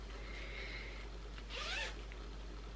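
A white invisible zip, 50 centimetres long, is handled while sewing a summer dress, giving one clear ratcheting zip pull mid-clip over a quiet room.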